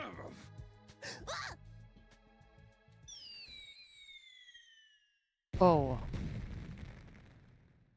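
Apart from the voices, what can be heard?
fireworks show in the video game Last Defense Academy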